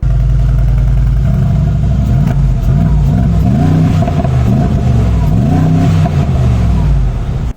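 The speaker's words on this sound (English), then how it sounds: "I will put up a clip of the exhaust sound right now" Loud, steady exhaust note from a 2022 Mercedes G63 AMG, idling with a deep rumble before rising and falling through several revs, close and continuous until it cuts off at the end.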